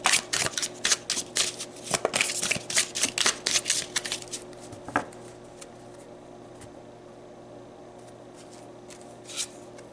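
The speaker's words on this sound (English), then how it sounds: "Let's pull another card." Oracle cards shuffled by hand to pull a card: a quick run of crisp riffling flicks and shuffles for about five seconds, then a pause and one faint final shuffle, close and alone with no talking.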